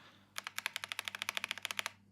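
Rapid typing on a KiiBOOM Phantom 81 V2 mechanical keyboard, about twenty crisp, evenly spaced key clacks in a quick burst after a short quiet lead-in, close and clear with no voices.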